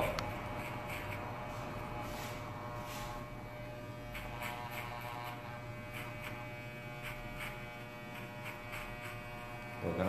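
An electric hair clipper with a number 1 guard buzzes steadily while cutting a traditional fade haircut, a faint continuous hum with light brushing strokes and no talk.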